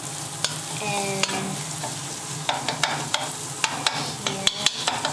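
A spoon stirs a thick, moisture-reducing cooking paste for goat soup in a sizzling pan, giving repeated sharp scrapes and clicks against the bottom over a constant fry hiss, close and fairly loud.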